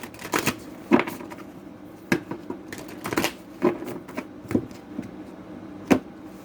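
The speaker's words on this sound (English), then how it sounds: "Give me 2 more shuffles." Tarot cards are shuffled in several short, crisp riffling bursts separated by brief pauses, close and fairly quiet.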